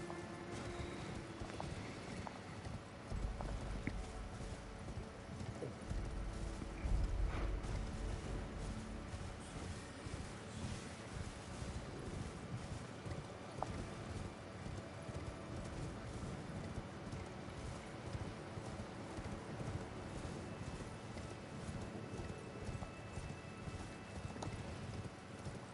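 Horse hooves clip-clopping in a Bloodborne-style PvE video game, a steady run of hoofbeats over roughly 26 seconds under a dense, continuous game soundscape, with a brief louder swell near the start.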